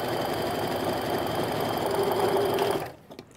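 Sewing machine chain-piecing quilt fabric strips, a steady continuous mechanical whir with rapid needle rhythm running loud for nearly three seconds, then stopping abruptly into near quiet.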